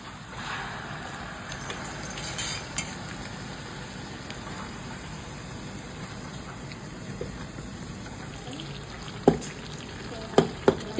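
Onion chili paste with turmeric, ground with a little water, stirred and cooked down in a pan: soft continuous sizzling and scraping, with a few sharp utensil taps near the end.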